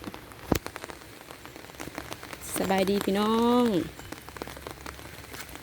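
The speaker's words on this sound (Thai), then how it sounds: "ฝนตก พี่น้องฝนตก" Steady rain falls outdoors in Thailand as a continuous hiss on surfaces, with a voice speaking over it partway through.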